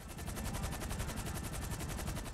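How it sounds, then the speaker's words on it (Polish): Rapid automatic gunfire rattles without pause in Grand Theft Auto Online, a dense, evenly spaced burst of shots over a low rumbling bed, fairly faint overall and with no talk. "Dziwne eksplozje."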